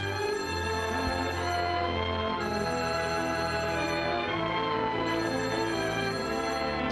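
A telephone rings on a radio call-in line, a steady, loud, tonal ringing that continues through the whole stretch with no talking.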